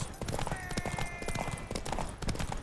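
Horse hooves clip-clop in The Witcher 3, a quick steady rhythm of close hoof strikes over a busy game soundscape with a faint tonal hum.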